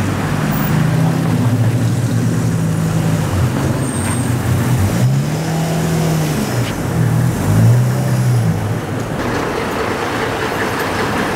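A vehicle with air suspension runs just after starting, its engine idling loud and close with a steady low drone whose pitch bends up and down a few times, no one talking.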